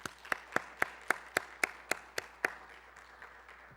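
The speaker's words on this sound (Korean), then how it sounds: "우리 선교사님 나오실 때 우리 다 같이 큰 박수로 환영하도록 하겠습니다" At a Friday church service, about nine sharp, evenly spaced claps ring out close and clear in a quiet hall, then trail off into near silence.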